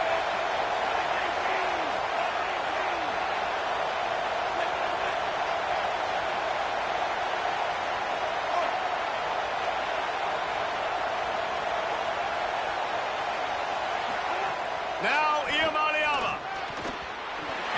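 At a UCLA vs Oregon college football game, the stadium crowd roars on third down, a loud, sustained wall of cheering that holds steady for the whole stretch and swells slightly near the end.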